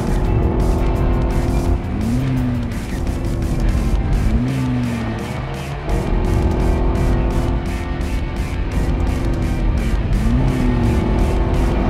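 A Cadillac ATS runs flat out through the tunnel on the Monaco circuit. The engine roars loud and continuous, and its pitch rises and drops with several quick gear changes across the lap.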